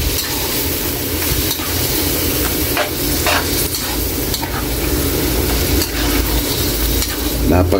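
Pork liver fries in a pot as a utensil stirs it steadily, with continuous close sizzling and scraping across the whole stretch and no talk.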